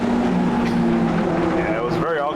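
Mazda MX-5 Spec race cars in a sim racing game at Laguna Seca, engines droning steadily with rising and falling pitch as they run toward the corkscrew, with a commentator talking over them.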